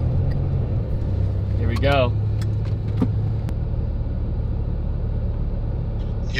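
Low, steady supercar engine rumble from inside the car while pulling up to a house, continuous throughout, with people talking briefly over it.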